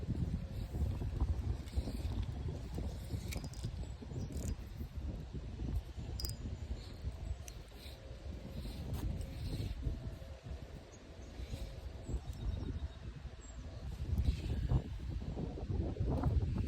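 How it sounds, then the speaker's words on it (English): Steady wind buffeting and rushing against the microphone out on open water while kayaking, a constant low roar for the whole stretch with a few gusty swells and no talking. "This wind is not gonna like me right now."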